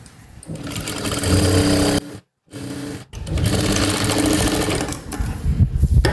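A sewing machine runs loud and close, stitching fabric for a baby cap in steady whirring bursts, stopping briefly twice before resuming.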